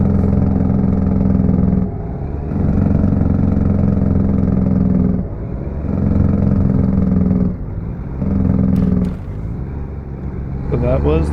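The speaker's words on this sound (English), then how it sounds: "So that was the engine brake." A 2014 Kenworth T680 truck in American Truck Simulator drones with a loud, low engine rumble that surges and dips in several pulses, the engine brake's heavy chatter, and a few clicks near the end.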